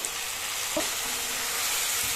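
Tomato paste and chopped tomatoes sizzle steadily in a hot pan, with a brief scrape of stirring partway through.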